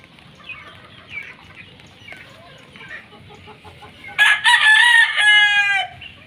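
A gamefowl broodcock rooster crows once, loud and close, after a stretch of faint background bird chatter and clucking.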